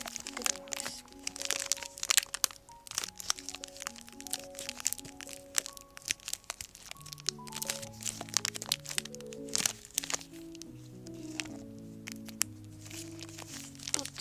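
Leftover plastic wrap torn off a packaged figure: sharp crackles and crinkling tears up close, in busy irregular bursts over quiet background music.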